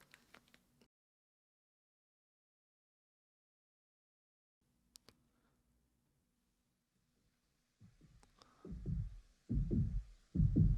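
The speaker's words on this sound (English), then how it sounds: "The heartbeat." A heartbeat effect from a song: a few faint, sparse thumps open the clip, then after long near-silence the louder low pulsing beats arrive as the track builds.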